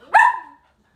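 A dog named Briley gives a single sharp bark on command as a trick, loud and close, with a brief ringing tail and no talk around it.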